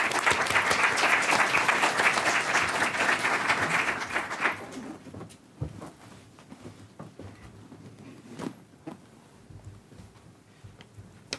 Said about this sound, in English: Let's have a good round of applause for Dr.